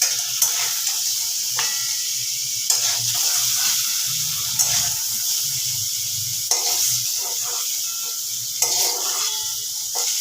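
Paneer cubes frying in a pan give a steady, moderately loud sizzle, with faint stirring and scraping from the pan running through it and no voices.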